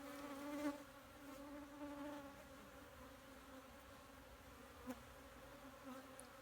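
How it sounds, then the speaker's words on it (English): A steady, close buzzing hum of many honey bees on a hive frame during a hive inspection, droning continuously with slight swells and no voices. "it's got lots and lots of bees on it."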